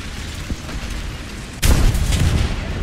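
Tank cannon shot striking an enemy tank in the War Thunder video game, a single loud booming impact at mid-clip that cuts in abruptly and then lingers over a rumbling, noisy battlefield bed.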